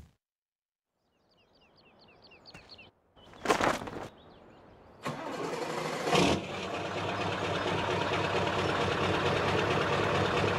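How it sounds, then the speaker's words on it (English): A few sharp bursts of noise, then a tractor engine in Farming Simulator 17 catches and settles into a steady, rattling idle that keeps chugging to the end. "Not quite the sound I was expecting to hear from this tractor"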